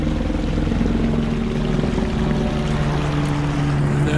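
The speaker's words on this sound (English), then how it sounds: "There's a helicopter." Helicopter flying overhead at a gold prospecting site on Cajon Creek, California, a steady loud rotor drone with a deep pulsing throb that fills the whole stretch without a break.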